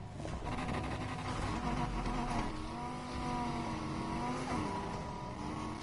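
A roaring V10 race car engine, a Corvette Z06, revving and shifting gears in a PS4 racing game, the pitch climbing and dropping as it accelerates, loud and continuous.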